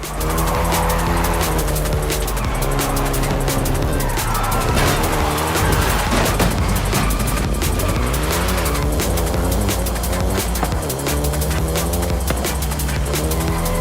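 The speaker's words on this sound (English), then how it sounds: "the Golf GTI you're driving right now" A Volkswagen Golf GTI drives in Forza 5, its engine a loud continuous drone that rises and falls through gear changes, with steady road and tire noise throughout.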